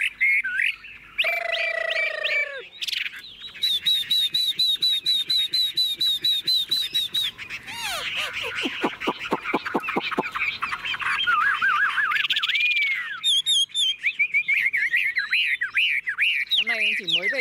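A caged Chinese hwamei songbird sings loudly and up close, pouring out varied whistles, rapid trills and repeated chirping phrases in continuous bursts with hardly a pause.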